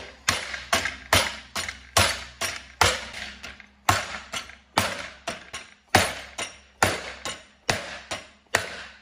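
Hammer blows forming sheet metal halves over a form: a steady series of sharp, ringing metallic strikes, about one or two per second, close and loud, each decaying quickly.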